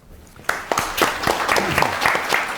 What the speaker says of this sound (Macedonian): Послушав аплауз.